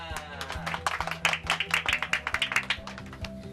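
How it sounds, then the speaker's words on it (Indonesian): A small group claps hands together at a community art space in an Indonesian village, starting scattered and building into quick, loud, fairly rhythmic claps, with faint background music tones underneath. "Oke, tepuk tangan semua."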